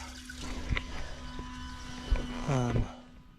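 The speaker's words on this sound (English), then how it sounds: "filling the hole with water." Water runs steadily into a hole being filled, a soft continuous rush and trickle with a faint hum beneath, fairly quiet, with no talking.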